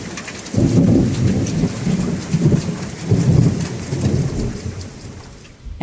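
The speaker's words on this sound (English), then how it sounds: "it's been raining and raining and raining." Heavy rain pours steadily, with deep rolling thunder rumbling underneath throughout and swelling in several waves, loud and close, with no voices.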